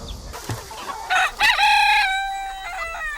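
Farm chickens clucking, with a rooster crowing loudly and close in a long drawn-out call that tapers off, no voices present.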